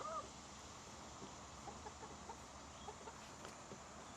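Hens cluck softly in a backyard coop, scattered short calls at a moderate distance over a quiet background hiss, with no talking.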